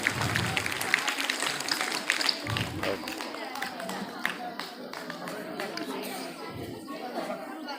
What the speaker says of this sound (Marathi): मुलांनी टाळ्या वाजवून त्यांचं अभिनंदन करायचं आहे